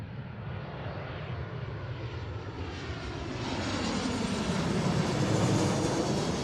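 An airliner arriving at Seattle airport builds from a distant rumble to a loud, broad engine roar as it draws nearer, with no talk.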